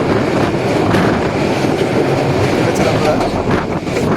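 The Bhagirathi Express passenger train rumbles over a double-line bridge near Ranaghat with a loud, continuous roar of wheels and carriages close by, and faint rhythmic clacks come through the din.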